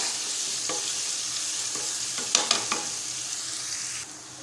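Spices and curry leaves tempering in hot oil, a continuous sizzle with a few quick spatula scrapes and clinks in the middle, close up with no voices.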